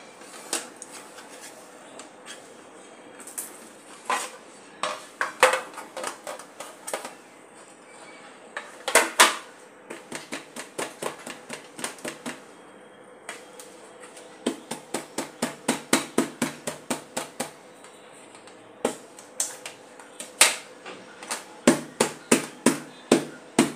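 A baked cake being freed from its tin: a long run of sharp, close taps and knocks, some single and some in quick clusters, with short quiet gaps and no talking.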